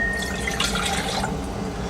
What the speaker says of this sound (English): So what we always do first is we add our water to our beaker.